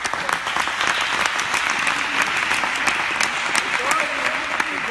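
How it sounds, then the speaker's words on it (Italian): Sustained applause from a crowd, dense and steady clapping at moderate loudness for several seconds. "un applauso a parte, grazie."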